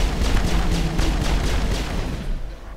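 Repeated heavy gunfire blasts from a shotgun in the video game Mass Effect, a steady run of loud booming shots with no talk over them.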